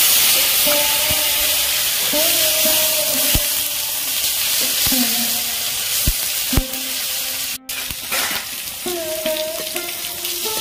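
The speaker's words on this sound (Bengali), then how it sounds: "ওই তেলের মধ্যে আলু মাখার জন্য টমেটো ভেজে নেব।" Tomatoes fry in oil with a steady, loud sizzle throughout, with occasional clinks and scrapes of a utensil stirring the pan.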